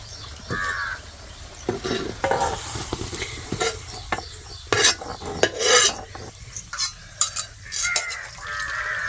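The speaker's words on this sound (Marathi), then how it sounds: "आता शिजली आपली भाजी पिळून त्याला मिठात परतून घेते" Boiled greens squeezed and stirred with salt in a pan, giving continuous close sizzling and scraping stirring sounds with irregular rustling bursts and no talk throughout.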